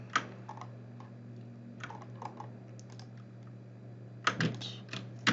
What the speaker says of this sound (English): So I'm just holding Shift for this and Shift clicking.